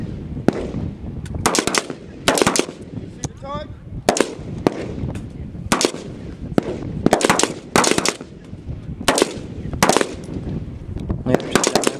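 Rifle fire at an outdoor shooting range, a rapid series of sharp, loud cracks at irregular intervals over about twelve seconds, with brief faint voices between the shots.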